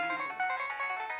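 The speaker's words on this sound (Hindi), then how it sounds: "ये किसका फोन बजा है?" A mobile phone ringtone plays on a television show set, a steady electronic melody of bright repeating tones, fairly loud and close, with no one talking over it.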